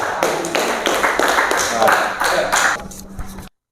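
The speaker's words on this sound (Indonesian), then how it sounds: "Tepuk tangan untuk kelompok 2." A class applauding a student group after its presentation; sharp, close clapping in irregular bursts that fades out near the end, with some voices underneath.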